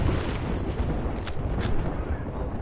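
Airstrike explosions in a video game: a dense, rumbling wall of blasts with two sharper bursts cracking through in the middle, loud and continuous throughout.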